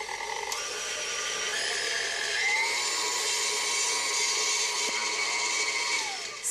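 An electric mixer whirs steadily while beating pineapple upside-down cake batter, a continuous high-pitched motor whine with slight pitch shifts as the speed changes.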